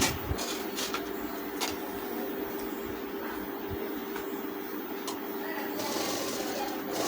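A sewing machine stitches an elastic trouser pant seam with a half-inch allowance, giving a steady, fairly quiet mechanical whir with a constant hum and small ticks throughout.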